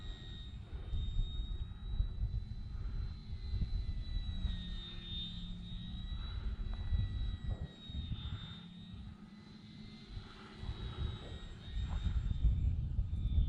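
A Hacker XL Zoom profile RC airplane flies overhead, its whining electric motor rising and falling steadily throughout as it passes near and away, with wind noise rumbling underneath.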